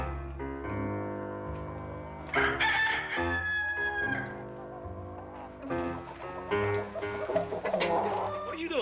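Chickens cluck and a rooster crows in a farmyard, several close, overlapping calls and one long strained crow in the middle, with music-like tonal layers underneath.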